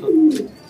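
A pigeon coos once, close and clear, a short low throaty call with a quiet pause after.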